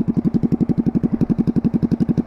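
A motorcycle engine with a broken exhaust idles close by, putting out a loud, rapid, even chug of sharp pulses, about ten per second, with no voices over it.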